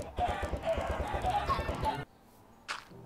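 Chickens in the video game Minecraft cluck in a quick run of short, close calls for about two seconds, then it goes quiet apart from one brief later sound.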